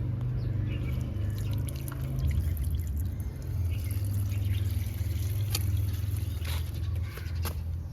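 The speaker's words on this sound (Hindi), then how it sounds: "कितना पानी डालूं?" Water pours steadily from a container during an outdoor fill-up in the Pakistani summer heat, a continuous rushing splash lasting several seconds with a low churning undertone and a few brighter drips.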